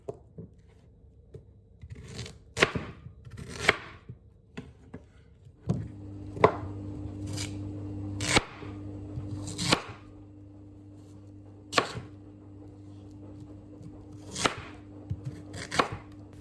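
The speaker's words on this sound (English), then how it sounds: "now I was gonna cut it into small cubes so I could boil it" Knife chopping peeled yam into small cubes for boiling, in a Nigerian student kitchen: sharp, irregular chops on a board, some close together and some spaced out, over a low steady hum.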